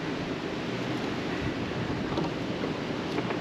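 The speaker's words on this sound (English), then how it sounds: "That wind's blowing." Wind gusts steadily around an outdoor solar shed where a tarp covers the floor, a constant broadband rush with slight swells throughout and no talk.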